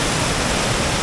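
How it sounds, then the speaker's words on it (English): Meltwater pours from Buerbreen glacier in a steady, dense rushing roar like a waterfall, filling the whole moment evenly with no voices over it. "you can see the water pouring out from the glacier"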